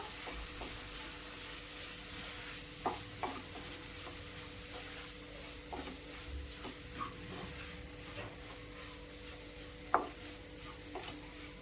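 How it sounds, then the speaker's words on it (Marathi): Dried shrimp (sukhi karadi) stirred and sautéed in masala in a pan, a soft steady sizzle under occasional sharp scrapes and taps of a spoon, no talking. "कर्दी टाकून झाल्यानंतर मी तिला व्यवस्थित मिक्स करून घेते मसाल्यांमध्ये सर्व।"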